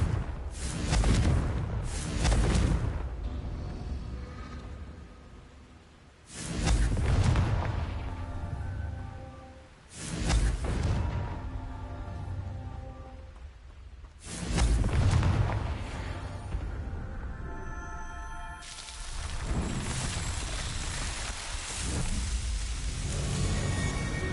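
Confringo fire-blast spells in the video game Hogwarts Legacy, four heavy booming explosions spaced several seconds apart, each with a long rumbling decay, loud and dense.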